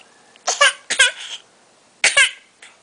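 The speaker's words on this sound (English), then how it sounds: "Oh no, the cough's back." A small child coughs in a few short, sharp bursts with brief pauses between them, close and fairly loud against a quiet room.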